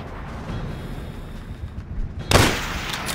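A single sharp enemy sniper shot in Call of Duty: World at War cracks out loudly after a few seconds of low, rumbling battlefield ambience, and its echo trails away briefly.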